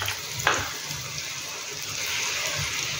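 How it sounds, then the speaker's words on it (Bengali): Eggplant frying in hot oil gives a steady, moderately loud sizzle and bubbling hiss, with one brief sharper crackle near the start and no voices. "এবার বেগুনটা আমি ভেজে নিয়েছি, বেগুনটা তুলে নেব।"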